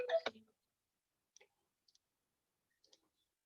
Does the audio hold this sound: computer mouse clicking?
yes